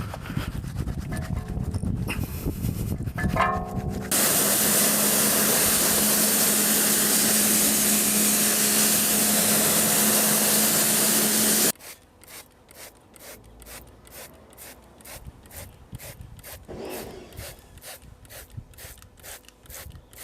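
A cheap £1 wheel woolly scrubs a car wheel in a steady, loud rubbing rasp, broken by a long continuous rush of spray or water, then rapid rhythmic back-and-forth scrubbing strokes.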